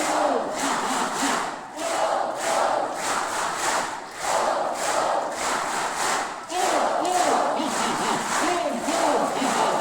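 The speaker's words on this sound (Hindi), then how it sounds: "ये हुई दूसरे टाइप की ताली वादन प्रक्रिया" A school assembly of children at an Indian inter college claps in rhythmic bursts while chanting 'om om ha ha ha', loud massed voices and hand claps repeating in a regular pattern throughout, with a couple of brief dips.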